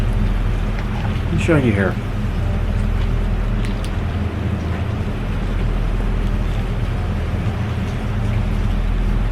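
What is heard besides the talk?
rain and wind outside during a tropical storm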